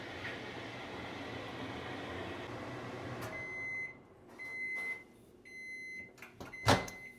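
A hotel-room microwave oven cooks chicken at 60% power with a steady humming drone, then falls quieter among electronic beeps, clicks and a sharp knock near the end.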